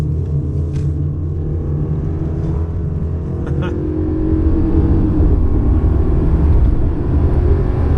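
A 2018 Subaru Outback Premium accelerating at full throttle from the cabin, a steady low engine drone and road rumble that swells louder after a few seconds.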